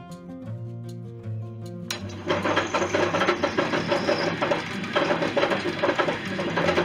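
A metal lathe starts up and turns the inner section of a part for a propeller inset on an airborne lifeboat restoration, a faint hum giving way to a loud, steady machining whir and cutting chatter, close and without speech.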